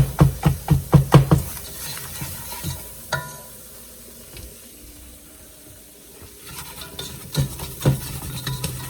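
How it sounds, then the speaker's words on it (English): Whisk stirring a roux for macaroni and cheese in a pan, with a quick run of rhythmic scraping strokes at the start, a quieter stretch of faint bubbling, then a few more whisk strokes near the end. "That is roux magic. See how it's whisking?"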